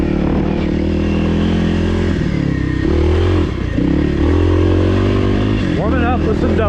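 A 2024 Kawasaki KLX300R dirt bike rides HMT Tornado singletrack, its engine loud and close with steady droning, throttle dips and revs, plus clattering from the trail; a rider speaks over it at times.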